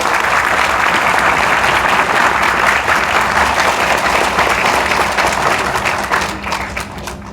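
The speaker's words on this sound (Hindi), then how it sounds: "और जोरदार तालियां एक बार बजाइए अपने लिए" A large audience at a talk in Varanasi breaks into loud, sustained applause, dense clapping filling the room steadily before easing off slightly near the end.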